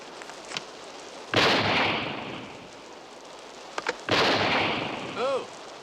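Two loud shotgun blasts ring out a few seconds apart during rough shooting in the English countryside, each with a sharp crack and a long fading echo, with brief voices in between.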